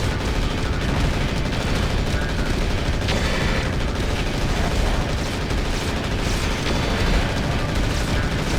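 Mech weapons firing in the MW4: Mercenaries video game, a dense, continuous barrage of gunfire and booming impacts, loud and sustained throughout.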